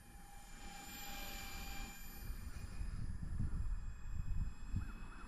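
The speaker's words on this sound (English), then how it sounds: "There you have it, a 1/72 scale, twin ducted fan, A-10." Whining drone of a 1/72 scale twin ducted fan A-10 model jet flying nearby, a steady high-pitched fan tone over low rumbling wind noise that swells slightly toward the end.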